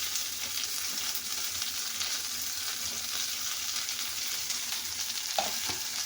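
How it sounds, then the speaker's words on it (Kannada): Onion, curry leaves, mint and coriander fry in oil in a pan for beetroot palya, giving a steady close hiss and crackle with a faint stir or clink near the end. "ಈರುಳ್ಳಿ ಒಂಚೂರು ಫ್ರೈ ಆಗಲಿ."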